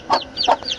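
Chickens at a village poultry coop give two or three short, close clucks in quick succession, with no talking.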